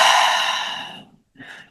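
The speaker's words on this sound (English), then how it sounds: "And then it's an exhale out the mouth." A strong, forceful exhale out the mouth during a morning breathing practice: one loud, breathy rush of air that fades over about a second, followed by a brief softer breath sound, close and alone.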